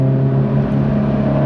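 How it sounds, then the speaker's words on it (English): The TRD exhaust on a 2017 Toyota 86 drones loudly at high revs, a steady, heavy tone with strong low harmonics held for the whole moment. "one thing I am noticing about the TRD exhaust, when it's in high revs like this, it can get a little drony."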